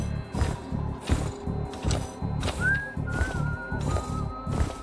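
A guard whistles a thin, wavering tune in the Espire 2 VR stealth game, fairly faint and high above a steady, rhythmic pulsing game soundtrack.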